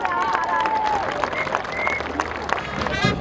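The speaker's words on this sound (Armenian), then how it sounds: "Բարձր ծափերով դիմավորում են հերոս հայորդիներին" A crowd applauding at an outdoor anniversary ceremony for a historic battle, dense continuous clapping throughout, with voices and cheering mixed in.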